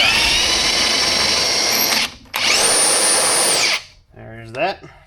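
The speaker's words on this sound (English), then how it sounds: "I'm going to use an impact" Impact wrench spinning off a tie rod jam nut on a Jeep Commander, two loud sustained whirring runs close by with a brief pause between, then short rattling hits as it stops.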